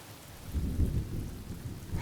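Rain falls steadily in Honkai Star Rail while deep thunder rumbles low and close, swelling and fading in rolling waves, with no voices.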